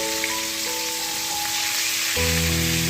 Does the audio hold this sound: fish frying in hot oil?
yes